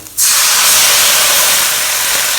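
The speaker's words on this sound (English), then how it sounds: "you add in half a cup of Chinese rice wine" Chinese rice wine, half a cup, hits a hot pot of pork and vegetables and bursts into a loud, sudden hiss of steam that stays strong and steady to the end.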